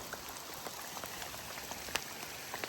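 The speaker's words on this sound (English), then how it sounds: "Yeah, it's really raining now." Steady rain patters on a campsite in the Yosemite wilderness, a dense, even hiss of drops with small scattered taps close by and no voices.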